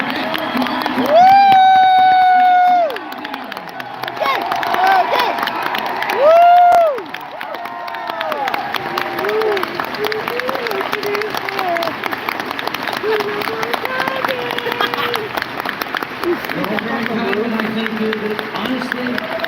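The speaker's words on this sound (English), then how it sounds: "But it was nice to get that round of applause." Large crowd at the Anthrocon closing ceremony applauding and cheering, sustained clapping with whoops, someone talking over a PA between bursts.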